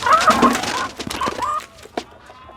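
A laying hen clucking, several loud close clucks and squawks in quick succession, then softer scattered calls and a final sharp cluck as it quietens.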